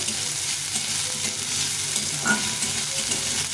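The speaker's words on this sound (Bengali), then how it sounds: "পেঁয়াজটা একটু লাল লাল করে ভেজে নিতে হবে" Steady sizzling of onions frying in a pan, a continuous crackling hiss with a few faint stirring scrapes, no voices.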